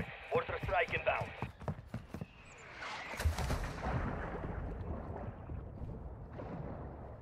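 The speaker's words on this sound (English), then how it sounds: "Mortar strike inbound." A mortar strike lands in a battle-royale video game: after a stretch of talking, a sharp booming impact hits, followed by a long rolling rumble of debris and echo that slowly trails off.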